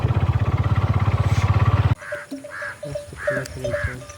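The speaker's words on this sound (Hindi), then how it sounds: "देखो कितना काँव काँव कर रही है, क्या चाहिए कौवा?" A crow caws loudly and close by in a rhythmic series of four or five harsh calls, after a short burst of rapid buzzing mechanical noise.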